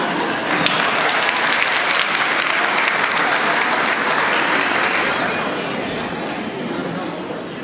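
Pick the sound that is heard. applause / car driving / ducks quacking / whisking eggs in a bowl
applause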